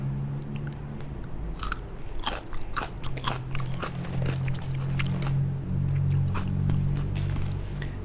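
Fresh, crisp sliced cucumber crunches with close, sharp bites followed by wet chewing, several distinct crunches in an irregular rhythm, near and clear with no talk.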